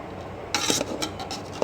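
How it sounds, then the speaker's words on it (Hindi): A spoon scrapes and clinks through vegetable fried rice in a pot, a short burst of stirring scrapes after a quiet start, followed by a few lighter scrapes and a sharp clink at the end. "वेजिटेबल्स डालने के बाद अब हम इनको अच्छे से चावल में मिक्स करेंगे।"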